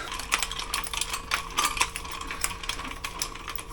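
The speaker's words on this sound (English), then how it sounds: "So let me crank this in" A screw is cranked in on an adjustable tractor splitting frame, giving close, busy metallic ratcheting clicks and scraping in an uneven rhythm over a faint steady hum.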